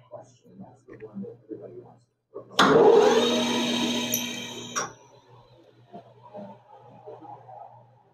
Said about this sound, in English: we'll chamfer the mouth. Finish up this end at least. Just put a quick chamfer on there.